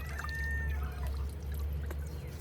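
Water from a container is tossed out onto garden ground in an urban vegetable plot. A steady, moderately loud pour and splash runs through the whole stretch, over a constant low hum and with no talking.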